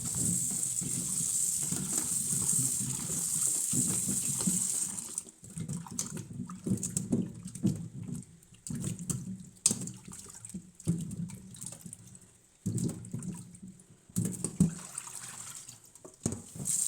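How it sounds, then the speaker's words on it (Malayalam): Peeled cassava is washed in water, with sloshing, splashing and gushing that come close and fairly loud, then break into intermittent rinsing bursts and pauses. "ഒരു 2-3 പ്രാവശ്യം വെള്ളത്തിൽ നന്നായിട്ടൊന്ന് കഴുകിയെടുക്കാം."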